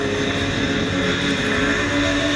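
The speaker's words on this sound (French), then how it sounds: "voici un petit wheeling en CB500" Honda CB500 motorcycle pulling a wheelie, its engine droning steadily and loud throughout, with no voices over it.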